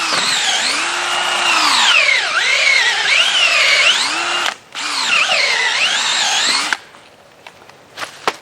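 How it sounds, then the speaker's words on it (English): A loud power drill whines and bores continuously into dirt, its pitch rising and dipping under load as it catches a root, pausing briefly before running again, then stopping. "Now I'm going to drill this out a little bit more."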